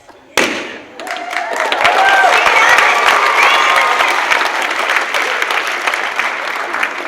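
A youth camp audience breaks into loud, sustained clapping and cheering after an Annie Oakley sharpshooting act, starting with a sudden thump and holding steady for several seconds.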